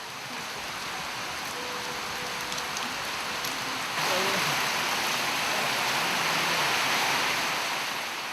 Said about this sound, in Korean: 비가 내리자